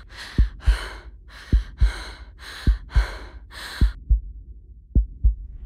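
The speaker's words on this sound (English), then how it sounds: "Why was she breathing so loud?" Heavy, panicked breathing from a character in a horror short film: seven loud, ragged breaths in a steady rhythm, each paired with a low thud like a heartbeat, followed by a few isolated thumps.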